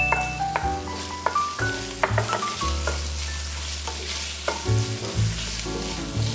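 Salted black beans and shiitake mushrooms sizzle in a hot pan as a utensil stirs them, with rhythmic scraping strokes and clinks over a steady frying hiss, close and clear.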